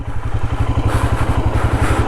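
A motorcycle engine on a collapsed, damaged mountain road in Uttarakhand throbs in a steady, fast low pulse, close and fairly loud throughout, with a faint rattle above it and no voices.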